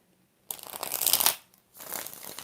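Tarot cards are shuffled in two close, crisp riffling bursts, the first longer and louder, the second shorter, with near silence around them.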